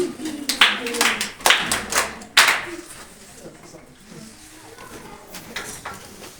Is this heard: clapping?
yes